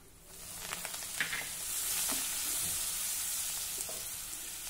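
Garlic and turmeric sizzle in hot oil, with a steady broad hiss that swells after the first second and holds, and a few soft stirring clicks on top, close and alone with no talk.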